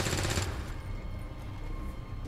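Explosive burst and rapid gunfire from a flashbang-heavy firefight in the video game XCOM 2: War of the Chosen, loud at the start, then fading into a sustained rumbling crackle with no voices.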